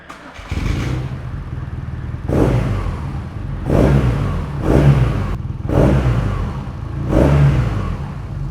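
A BMW R nineT Option 719 motorcycle's boxer engine idles and is revved repeatedly through its exhaust pipes, roughly five or six loud, close blips rising and falling over a steady idle.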